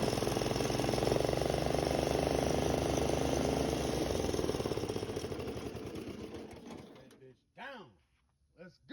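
A Snapper riding lawnmower's Briggs & Stratton engine chugs in a fast, steady rhythmic idle, then winds down and cuts out, leaving a few brief whirring blips at the end.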